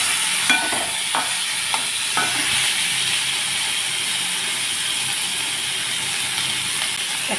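Tomatoes go into hot oil tempering, and a loud steady sizzle with a hissing crackle follows, joined early on by a few scraping stirs of a utensil against the pan, with no talking.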